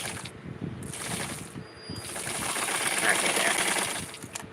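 A sewing machine stitching a piece of a Halloween Skipper costume, rapid mechanical rattling and clatter in bursts, close and fairly loud, with pauses between runs.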